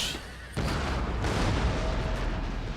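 Artillery fire in the Empire: Total War video game, with a heavy cannon boom breaking in sharply after a quieter stretch and a second blast following, both leaving a loud rolling rumble that carries on to the end.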